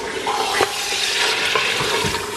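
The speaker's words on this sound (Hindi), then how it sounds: "भुनना शुरू हो गया।" Mutton with bones frying and being stirred in a pressure cooker pot for nihari, a close, dense sizzle with the scrape of a spoon against the metal.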